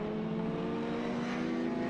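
BMW touring race car at a South African endurance race, its engine holding a steady, loud drone with strong harmonics as it pulls away from the pits, continuous and close.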